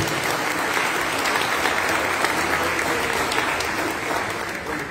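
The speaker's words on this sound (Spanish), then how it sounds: "aplauso para María Paulina García." Steady, loud audience applause fills a hall for about five seconds, a dense wash of many hands clapping together without a break.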